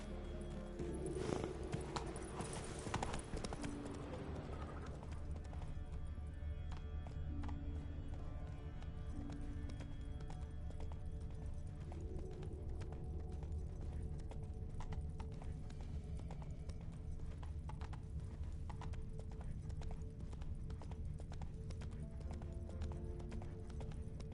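Hooves clip-clop rapidly as Roach, the horse in The Witcher 3, runs across the ground, a steady rhythmic drumming of footfalls that stays close throughout, with a brief louder burst near the start.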